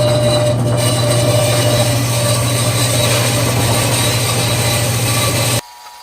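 A metal-cutting bandsaw runs steadily through metal in a workshop, a loud continuous mechanical drone with a low hum and grinding rasp that holds evenly for several seconds before stopping abruptly near the end.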